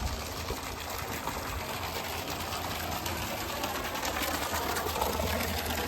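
A continuous mechanical hum of a borewell pump running with water pouring steadily, a constant busy noise with no pauses.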